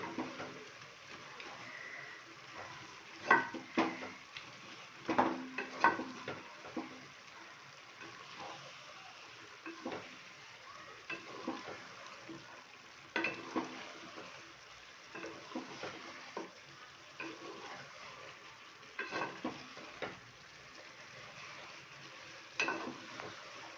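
Garlic chicken fry being stirred in a pan, with a soft steady sizzle under repeated scraping and clattering of the spoon against the pan at an uneven pace throughout.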